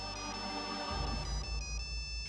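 A mobile phone ringtone chiming in a repeating melodic pattern, moderately loud over a low background hum that shifts partway through.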